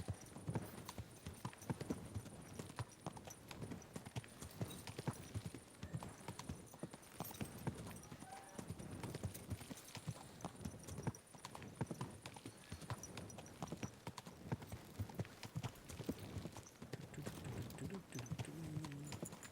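A horse's hooves clip-clop steadily during a midnight ride in Kingdom Come: Deliverance 2, a continuous quick rhythm of hoofbeats on a road, fairly faint, with occasional speech over it.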